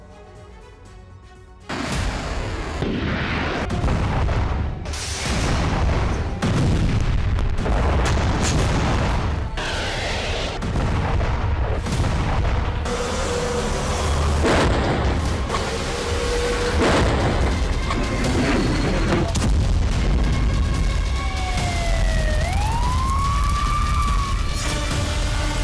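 During a Russian attack on Kyiv, heavy booms and blasts strike again and again, some close and loud. Toward the end a siren wails with rising and falling sweeps.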